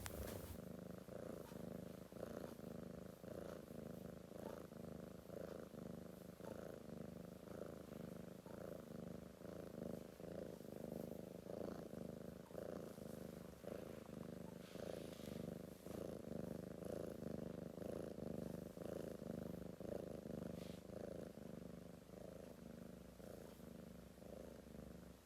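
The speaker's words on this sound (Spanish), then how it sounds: "Ahora escucha el de este gato, este ronroneo que te masajea y te calma." A cat purrs in a steady, close, rhythmic rumble that carries on without a break, with no other sounds over it.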